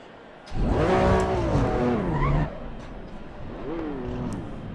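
Race cars launching from a green light at the start of an Assetto Corsa Competizione race: a loud engine roar climbs and falls in pitch, drops away, then a second rev rises, with a voice talking over parts of it.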